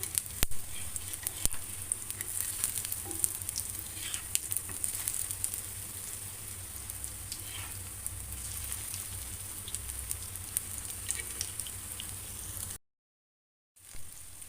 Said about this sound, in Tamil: எண்ணெய் ஊற்றி நான் தோசைக்கல்ல தான் போட்டிருக்கேன்